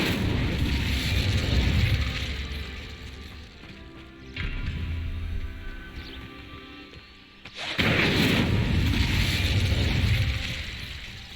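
The Incendio fire spell cast in Hogwarts Legacy, heard as loud roaring whooshes of flame in two long bursts separated by a quieter gap, dense and close.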